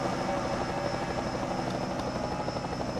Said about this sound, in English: I don't know if you guys can hear me over the helicopter blades.